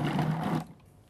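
A Cuisinart Elite FP-14DC food processor running while kneading dough, a steady motorized whir with a low hum that cuts off abruptly partway through, leaving quiet background.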